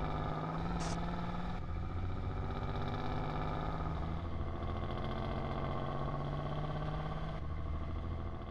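A car drives around in GTA San Andreas, its engine a steady, buzzing drone at an even pitch that shifts slightly between lower and higher notes, with no talk over it.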